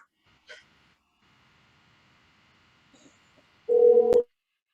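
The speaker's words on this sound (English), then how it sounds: "Prabhu, I'm calling you on the phone." A single short telephone tone sounds clearly near the end of an otherwise quiet stretch on a phone call, after a faint breath early on.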